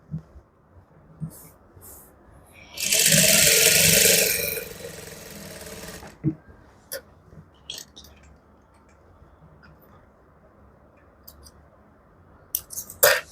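Sewing machine stitching a palazzo pant pocket with a half-inch margin, a loud, fast burst of stitching lasting about three seconds, followed by quieter scattered clicks and handling noises.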